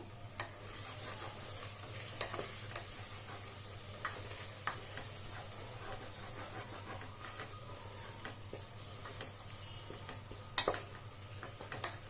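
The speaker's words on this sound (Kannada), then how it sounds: "ಮೆಣಸಿನ್ಕಾಯಿ ಪೌಡ್ರು ಹಾಕೊಂಡು ಚೆನ್ನಾಗಿ ಫ್ರೈ ಮಾಡ್ಕೊಳ್ಳಿ" Masala with chilli powder frying in a pan for egg biryani, a soft steady sizzle with occasional scraping and stirring clicks, quiet and close.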